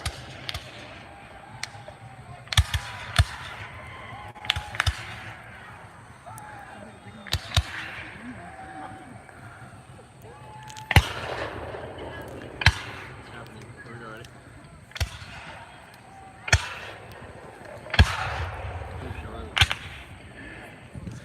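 Muskets crack out one after another from Civil War reenactment skirmishers on an open field staging the Gettysburg wheat field fight, about a dozen sharp reports at uneven intervals, some close and loud, others more distant.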